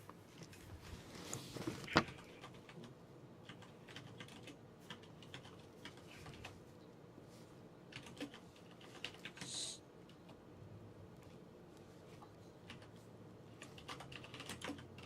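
Computer keyboard typing during a Dark Heresy Warhammer 40k tabletop RPG session: quiet, irregular clicking keystrokes continuing throughout, with one sharper knock early on and faint background noise.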